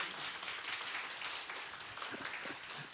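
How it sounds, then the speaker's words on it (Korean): A church congregation claps together at a Korean sermon, a steady dense patter of many hands, fairly soft and continuous throughout. "오라고 박수 한번 치시기 바랍니다."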